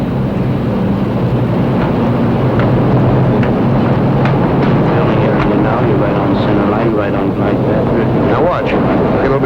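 A propeller aircraft drones low overhead on final approach about a mile from touchdown, a loud, continuous roar with wind buffeting the microphone and someone talking over it.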